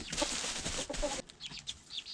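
Hens and chicks in a coop make a burst of rustling or flapping, then a few soft clucks and thin chick peeps, moderately close.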